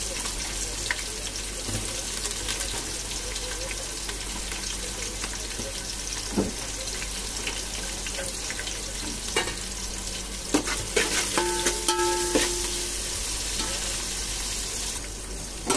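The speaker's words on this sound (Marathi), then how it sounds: "आता आपला कांदा भाजत आलाय" Onion frying in hot oil with curry leaves for a chicken biryani sizzles continuously, with occasional stirring scrapes and clinks of a spoon against the pan, close and steady with no talking.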